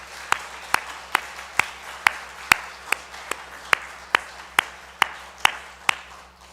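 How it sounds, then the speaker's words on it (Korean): A church congregation applauds during a Thanksgiving service with steady, evenly spaced claps in unison, each sharp clap ringing out close and clear over a quiet room. "우리 박수 한번 격려하겠습니다"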